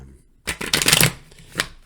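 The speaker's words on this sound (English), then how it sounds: "So let's just do another shuffle and then we'll cut the deck" A deck of tarot cards gets one quick riffle shuffle, a close, crisp fluttering burst lasting under a second, then a short tap as the cards settle.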